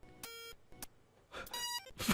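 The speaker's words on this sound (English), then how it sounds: "Why is it beeping?" Electronic beeps in short bursts, a steady tone followed by a higher buzzy chirp, then a rougher pulsing electronic tone; no voices.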